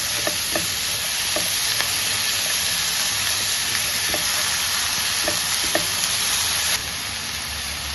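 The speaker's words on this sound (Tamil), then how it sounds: "நான் கொஞ்சம் லைட்டாக பட்டர் போட்டுக்கிறேன். நல்லா வதக்கிக்கோங்க." Paneer gravy ingredients sautéing in butter in a pan give a steady, close, continuous sizzle, with faint stirring clicks and scrapes scattered throughout and a slight drop in level near the end.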